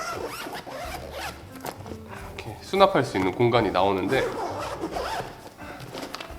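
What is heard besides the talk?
zipper opening on camera backpack front pocket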